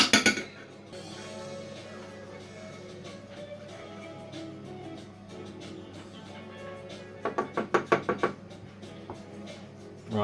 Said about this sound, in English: just keep stirring those